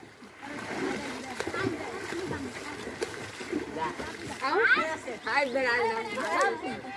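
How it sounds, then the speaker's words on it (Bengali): Children splash and paddle in water while learning to swim, with uneven bursts of splashing under excited children's voices and an adult talking nearby. "কে দাও না একটু সাঁতার দাও"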